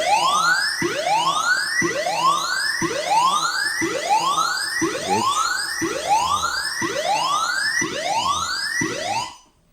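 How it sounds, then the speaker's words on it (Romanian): A Loxone smart home intrusion alarm siren: a loud, rapidly rising sweep repeats about once a second in a steady cycle, then cuts off abruptly at the end. "în câteva secunde o să pornească partea de alarmă audio"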